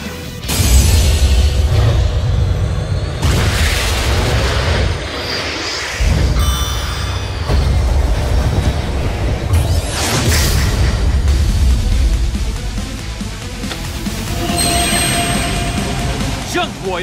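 Synchro Summon effect from the Yu-Gi-Oh! Duel Links video game: loud, sustained booming whooshes and rumbling surges that swell and shift across the stretch, with a few brief bright chimes near the end.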